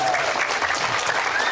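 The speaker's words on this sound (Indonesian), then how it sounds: "Tepuk tangan buat tim aku." Applause for a team from a studio audience at an Indonesian talk show, a steady broadband patter of clapping lasting the full stretch with a faint tone running underneath.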